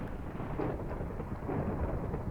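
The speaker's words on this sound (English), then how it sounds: "Whoa, thunder." Thunder rumbles through a Minecraft world, a steady low roll that fills the whole stretch at moderate loudness with no voices over it.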